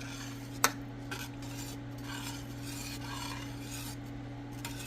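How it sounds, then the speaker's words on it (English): Washed rice stirred in a metal pan for Saudi kabsa, a soft scraping and rasping of a utensil with one sharp clink near the start over a steady low hum. "Give it a little bit of a stir."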